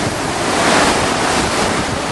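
A loud, continuous roar of wind blasting the microphone, mixed with the wash of ocean surf close by, with no voices.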